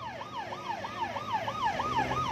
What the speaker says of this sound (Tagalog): may dumaan na ambulansya, medyo lakas yung wangwang